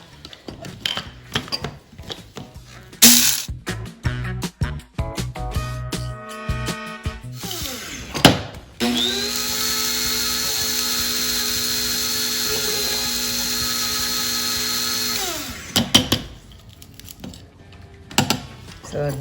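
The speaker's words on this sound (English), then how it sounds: "I grind my curry powder as needed." A kitchen grinder blends homemade roasted curry powder. After some clattering and handling noises, its motor runs in one sustained, loud whirring burst for about six seconds, then stops.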